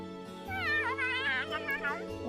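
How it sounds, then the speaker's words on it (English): A cat meows in the video game Trails of Cold Steel, one drawn-out, wavering meow over a steady low game music drone. "Cat."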